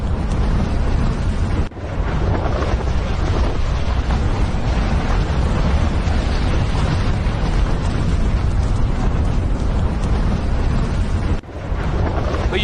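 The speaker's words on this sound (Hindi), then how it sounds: "ये है धरती से निकलती ज्वाला, और इसको देखिए जरा कैसे धमाका हुआ।" Volcanic eruption captured in news footage: a loud, continuous broadband roar like heavy wind and blast rumble, steady throughout with two brief dips in intensity.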